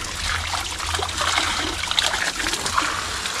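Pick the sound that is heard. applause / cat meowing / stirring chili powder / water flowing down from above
water flowing down from above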